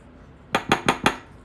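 A utensil knocks against a mixing bowl while baking powder is mixed into sifted flour for a Guyanese sponge cake, giving four sharp, evenly spaced clinks close up after a brief quiet start.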